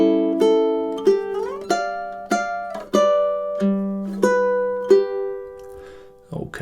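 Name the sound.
ukulele playing Cielito Lindo measures 9 to 12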